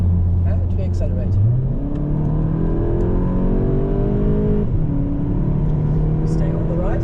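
A Golf 7.5 GTI accelerates hard on the Nürburgring Nordschleife, its engine note climbing steadily through the rev range, loud and continuous from inside the car, with a brief dip before pulling again.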